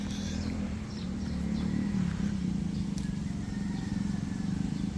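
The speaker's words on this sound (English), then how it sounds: "Motorbike coming." A motor trike passes along a road during a morning walk, a steady low engine rumble that swells slightly near the middle and stays close throughout, without speech.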